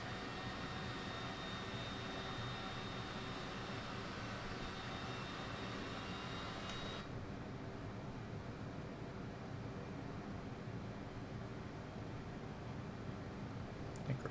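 An aircraft engine drones in Microsoft Flight Simulator 2024 while flying through cloud toward Massena, a steady smooth whine and rush that holds level throughout, with its higher tone dropping away midway.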